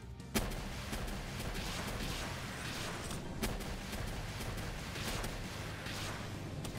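Dense gunfire in a Palworld hard-mode tower boss fight, a steady barrage of shots and booming impacts filling the whole stretch, loud and continuous with sharper blasts standing out near the start and midway.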